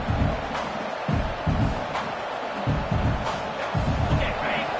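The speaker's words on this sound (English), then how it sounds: "Listen to the crowd energy here in the early going." Stadium crowd noise in the College Football 26 video game, a steady roar of cheering fans in a hostile home environment with a Penn State setting, continuous and fairly loud with rhythmic surges beneath the bed of sound.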